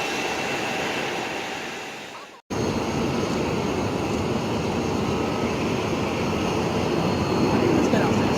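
A Boeing 757 jet airliner at Phoenix airport roars loudly and steadily, a broad sustained engine rumble after a brief cut, with people talking nearby.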